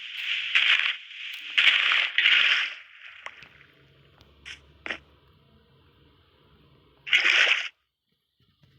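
Several short bursts of splashing water as an infinite water source is made in a survival crafting video game, three in quick succession, then quiet with faint clicks before a final splash near the end.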